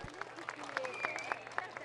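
Scattered, quiet clapping from a crowd at a parade marking a village's 150th anniversary, individual claps distinct and somewhat rhythmic, heard at a distance with talk and background voices mixed in.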